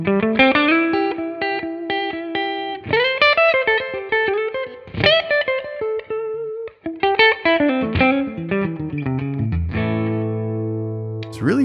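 A clean electric guitar on the neck pickup, played through a Tonex amp capture, picks out a sequence of chords and single notes, ringing clearly and closely and ending on a sustained chord.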